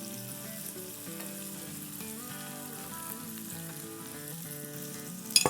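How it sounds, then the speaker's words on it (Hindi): Spices sizzle and fry in oil with tomatoes for a bhindi aloo sabzi, a steady close-up crackle of frying throughout with occasional stirring and a sharper clatter near the end. "अब ये टमाटो के साथ अच्छे से भुनेंगे।"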